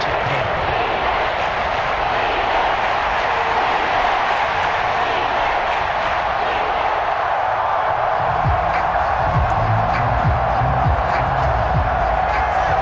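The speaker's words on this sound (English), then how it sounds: "This crowd turning up the decibel level." Stadium crowd noise in a football video game forms a loud, continuous roar that swells toward the end, with a commentator-style voice talking over it.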